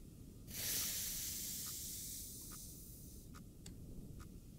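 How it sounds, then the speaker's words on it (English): Steam hisses loudly in the Iron Lung horror video game, a sharp broadband rush that bursts in, holds for over a second, then tapers to a lower steady hiss broken by faint ticks and clicks. "I could do without the steam."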